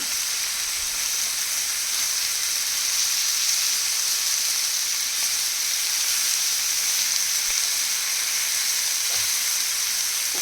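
Onion and a wild leafy vegetable (chivla) fry together in a pan with a dense, even sizzle that holds at close range and steady loudness throughout.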